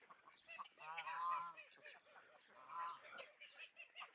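Geese on a homestead give harsh, nasal honks in two close bursts, the first louder and drawn out, the second shorter, with quieter cackling between. No one speaks.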